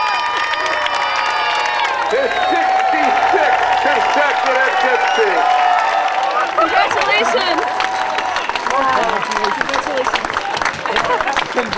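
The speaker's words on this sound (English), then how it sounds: "That's not enough applause, guys." A crowd at the Dipsea race claps and cheers for 94-year-old runner Jack Kirk, known as the Dipsea Demon; a loud, continuous wash of applause runs beneath an announcer speaking over it.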